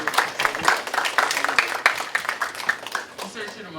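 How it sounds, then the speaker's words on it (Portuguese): An audience claps at an academic seminar lecture, with scattered, uneven applause running throughout. People talk over the clapping. "palmas."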